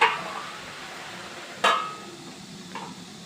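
A lid set down on a pan of Bengali poppy-seed and mustard pui shak chorchori, giving one sharp metallic clink, a fainter clink shortly after, all over a quiet kitchen background.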